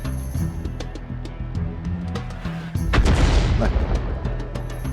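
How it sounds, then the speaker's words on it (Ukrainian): A heavy tank cannon blast in a video game booms out over a steady background of game music and rumble, followed by a sustained low roar as it fades. "оце був постріл, оце я розумію"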